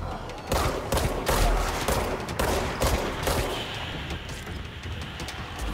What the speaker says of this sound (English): My shooting is improving